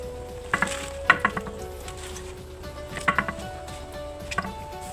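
Mustard greens go into a simmering coconut-milk fish stew, raising a steady sizzle and bubbling with a few clustered clicks and clatters of the pot, moderately close.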